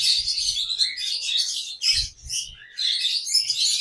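Pet birds chirping at a large bird market in Khulna, a dense run of high, rapid tweets and short calls from several birds close by, continuous with brief gaps and no talking.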